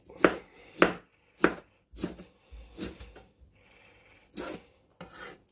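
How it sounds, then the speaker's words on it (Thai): A knife chops fresh coriander on a board for a northern Thai pickled mustard green salad. Crisp, close strokes come in an uneven series of about eight, with short gaps between them. "ซอยผักชีใส่ลงไปครับ"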